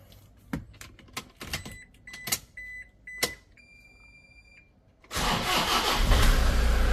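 A 2009 Toyota Kijang Innova G diesel with manual gearbox is started: dashboard clicks and chimes, electronic beeps, then the engine cranks and catches into a loud, steady diesel running rumble.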